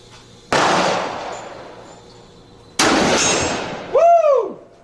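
Two sharp gunshots from firearms at an outdoor shooting range, each a loud crack with a long echoing tail, followed by a brief whistling, whooshing sweep at the end.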